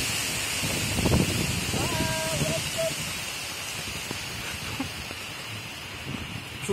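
Strong storm wind roars in a steady, dense rush throughout, with a brief thin whistling tone early on and faint voices in the background.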